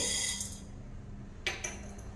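Dry black peppercorns land in a pan for roasting, giving a few quick, light rattling clicks, one burst at the start and two more a moment later, over a quiet room background.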